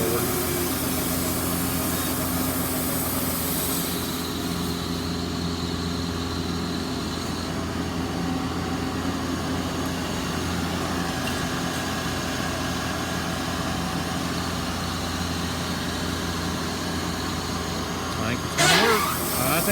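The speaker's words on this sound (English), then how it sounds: "for anybody interested in the cutting, he's cutting pallet deck boarding" A Wood-Mizer LT40 Super hydraulic sawmill on a modified cat track runs steadily while cutting pallet deck boards, giving a continuous engine and blade drone with no clear breaks.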